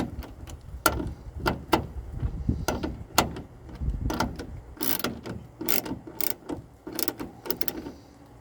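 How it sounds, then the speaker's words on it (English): Ratcheting wrench with a 10mm socket snugging a tail light bolt on a 2005 Nissan Titan, giving repeated sharp clicks in irregular bursts, close and moderately loud, with no talking. "I know this is a massive wrench for this 10mm socket."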